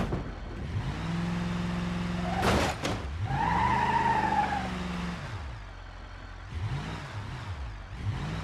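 A powerful truck in a video game, engine droning and revving through gear changes, with a sharp skid and tire squeal midway, then rising and falling engine pitch as it drives on.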